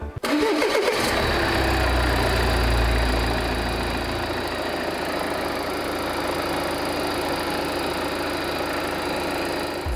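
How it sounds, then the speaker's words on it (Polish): A car engine with nearly 300,000 km and a replaced turbocharger cranks and fires, then settles into a steady, even idle that runs loud and close with no one talking. "Za chwilę też Wam ten silnik odpalimy, żebyście posłuchali, jak on pracuje na biegu jałowym."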